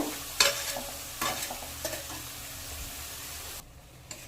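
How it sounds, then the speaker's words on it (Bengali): Spice paste for a pangas fish curry stirred and fried in a pan with salt added, steady sizzling broken by a few louder scraping strokes of the spoon, then quieter, as if partly covered, near the end. "এবার আমি একটু ঢেকে ঢেকে ভালো করে মশলাটাকে কষে নেব।"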